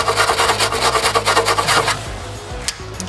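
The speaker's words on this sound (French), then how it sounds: "Il te faut au minimum une brosse de fer." A wire brush scrubs rusty sheet metal on a Peugeot J5 van with fast, harsh back-and-forth rasping strokes, loud and close, then slows into lighter scraping and a single knock.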